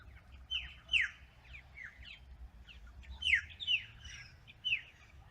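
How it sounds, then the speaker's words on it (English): Birds chirp and whistle in short bright bursts over a quiet outdoor background, several calls overlapping at a moderate distance. "just have a listen to these birds"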